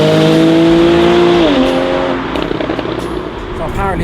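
A Porsche 911 Carrera S engine revs high, its sustained tone climbing and then dipping as the revs shift, loud and close, with a dense rumble underneath.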